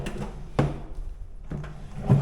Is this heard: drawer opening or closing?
yes